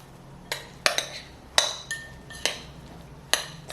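A spoon mixing garlic powder into a cauliflower pizza mixture in a bowl, a series of sharp clinks and taps against the dish at an uneven pace over a quiet background.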